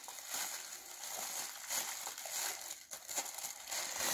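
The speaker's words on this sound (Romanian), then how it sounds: "Bun, deschide punga" A plastic gift bag holding a LOL doll toy is pulled open with continuous close, quiet crinkling and rustling, with no voices.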